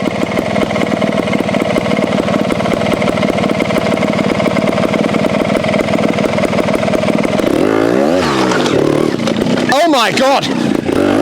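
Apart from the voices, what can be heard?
new trials motorcycle engine idling and revving over mossy rock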